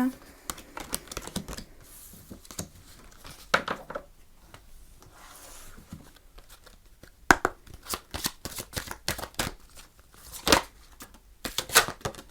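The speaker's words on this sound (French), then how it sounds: "je vais vous tirer une carte des réponses angéliques" Angel oracle cards are shuffled and drawn, giving bursts of close riffling and flicking card noise with soft slaps, separated by pauses, while someone speaks at times.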